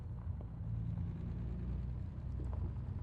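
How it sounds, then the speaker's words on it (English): A low, steady truck engine rumble idles quietly, with a faint continuous mechanical drone and no voices. "for the engine and truck, so you can actually hear it"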